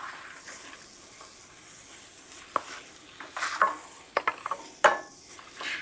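Diced apple softens in a pan with a gentle, steady sizzle, broken by several sharp clicks and scrapes of a utensil stirring against the pan toward the end.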